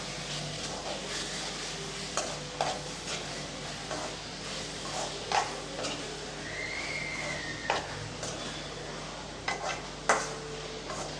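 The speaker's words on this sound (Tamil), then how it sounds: "எல்லாத்தையும் சேர்த்து நல்லா கலந்து விட்டுறலாம்" A spoon stirs potato gravy with green chillies and coriander in a pan, making soft scraping strokes and occasional sharper clinks over a quiet simmer, with a faint whistle-like tone in the background.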